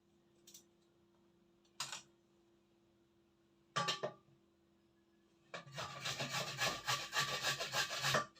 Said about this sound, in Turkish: ince tarafıyla rendeleyeceğim.